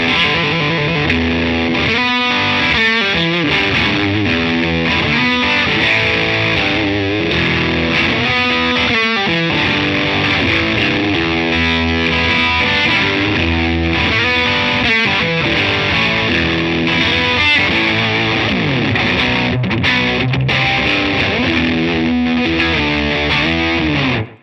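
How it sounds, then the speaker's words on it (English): Electric guitar driven hard through a Supro Keeley Custom 12 amp with a Starlight fuzz pedal, thick saturated chords and riffs playing continuously and loud for the whole stretch, no talking. "let's turn on a fuzz and see if we can handle that"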